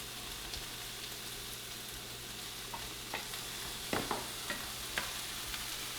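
Venison breakfast sautéing in a pan with salt and pepper, a steady close sizzle broken by a few sharp scrapes and stirring clatters, no voices.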